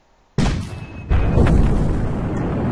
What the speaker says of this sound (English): heal from your opponent's cannon fire